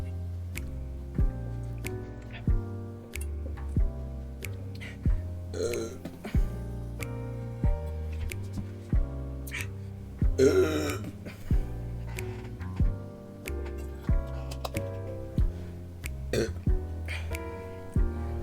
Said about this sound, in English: So we're gonna make another burp compilation.